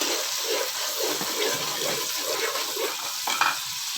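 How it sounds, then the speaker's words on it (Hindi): Tomatoes and green chillies hit a pan of frying potato rice, giving a steady wet sizzle and hiss with faint stirring, close and continuous, no voices. "ये हम डाल रहे हैं टमाटर और हरी मिर्चें।"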